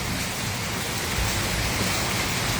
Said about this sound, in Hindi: देखिए हमारे घर में बारिश हो रही है